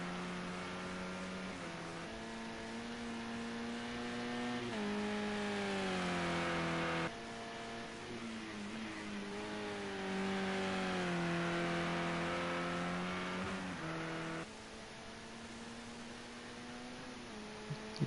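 A Renault Megane race car in a BTCC sim racing game revs and shifts repeatedly, its engine note climbing, dropping at each gear change and climbing again in a steady loop, heard alone and close.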